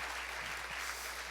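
A church congregation applauds the visiting pastor's wife, a brief, faint, even patter of clapping heard from a distance with steady low hum beneath it.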